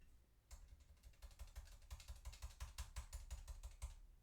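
Rapid typing on a computer keyboard, close and clear, with dense, uneven bursts of clicks continuing for about four seconds after a brief quiet start; no voices.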